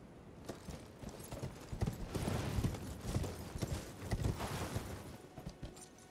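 A horse's hooves clip-clop rapidly in Elden Ring, a quick irregular galloping rhythm of close thuds that swells and fades over several seconds, with no voices heard.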